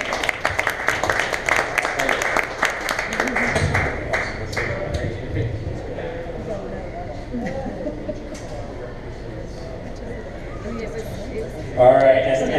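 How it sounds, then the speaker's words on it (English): Audience at a tech talk applauds in a round of clapping that fades over several seconds, with talk and chatter continuing over and after it. "So, round of applause."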